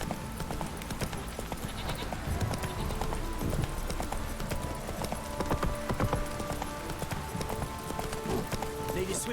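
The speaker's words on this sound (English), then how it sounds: "Time to water the horses." Horses' hooves clip-clop steadily in The Witcher 3: Wild Hunt, a continuous rhythmic clatter at close range, mixed with other game sounds and snorts.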